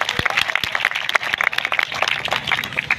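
An audience at a Hindi poetry gathering, the Koraon Mahotsav, claps in a sustained, fairly close burst of applause to welcome the presiding guest and the poets.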